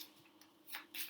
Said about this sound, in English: let's just give these a shuffle